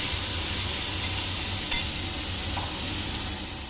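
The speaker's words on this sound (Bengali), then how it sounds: "সমস্ত সবজি তেলে দিয়ে বেশ কিছুক্ষণ ভেজে নিতে হবে।" Vegetables frying in oil for an oats pulao, a steady close sizzle and hiss with a faint low rumble beneath and a couple of small clicks, no talking.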